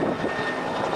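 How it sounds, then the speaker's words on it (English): An Italian military helicopter passes overhead, a loud, continuous rumbling roar with a broad thudding rotor and engine texture that fills the whole moment without pause. "actually there's the military helicopter from the Italian mission"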